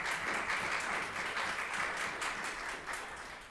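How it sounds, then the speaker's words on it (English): Applause at a United States congressional hearing on SNAP and work opportunity: a moderately quiet, sustained patter of many hands clapping that stays steady for a few seconds before tapering slightly at the end. "So I just want to give you a round of applause,"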